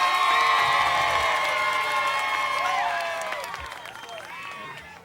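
An audience at a Spanish-language entertainment contest cheers and shouts with rising whoops, loud at first and then fading over several seconds.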